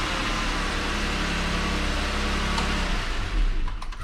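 A used Jeep JK engine turns over and runs with a steady, loud mechanical hum close by, settling into a rumbling idle near the end.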